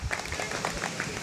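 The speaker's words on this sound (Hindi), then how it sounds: "तालियां" A brief burst of applause from a group at an outdoor meeting, short and fairly close, fading quickly.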